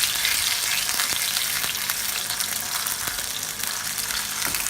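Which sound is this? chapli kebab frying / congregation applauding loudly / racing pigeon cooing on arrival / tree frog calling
chapli kebab frying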